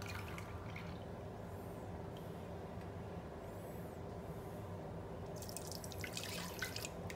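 Plum juice being ladled into a jelly mixture in a home kitchen gives soft, faint drips and small pours, with a few brief wetter splashes near the end over a steady low background hum.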